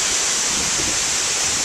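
Roar of a large waterfall in West Africa: a steady, loud broadband rush of falling water, dense and continuous with no gaps or voices.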